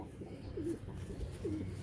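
A Royal Teddy pigeon coos softly twice, low and rolling, with a faint noisy background.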